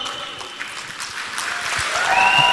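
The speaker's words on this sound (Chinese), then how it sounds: "掌声" An audience at a speech applauds, a dense steady clapping that swells louder toward the end.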